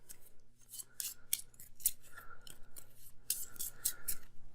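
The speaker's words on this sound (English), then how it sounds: "So we'll shuffle the mortal cards." Crisp, papery riffling bursts repeat in quick succession, close and fairly quiet, like a deck of cards being shuffled over and over.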